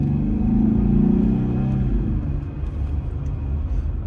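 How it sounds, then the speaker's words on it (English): A Jeep Gladiator fitted with an Airaid cold air intake makes a high-speed takeoff, a loud engine roar swelling early then settling into a steady rumble as it pulls away. "I'm going to give you one more little high-speed takeoff about right here"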